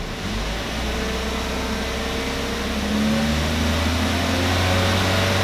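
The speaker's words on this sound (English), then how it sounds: "let me step on the gas a little bit. I'm gonna bring the RPMs up" A Chevrolet Cruze engine revving as the gas pedal is pressed, a steady idle hum rising in pitch and loudness partway through and holding at higher RPM, no talk.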